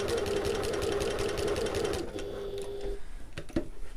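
A sewing machine stitches a backpack, its fast, steady mechanical chatter close and loud for about two seconds before slowing and stopping, followed by a few small clicks and handling sounds.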